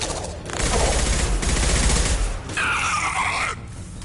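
Gunfire in the video game Mass Effect 2, a sustained, loud barrage of shots with brief dips and a sharp electronic tone near the end.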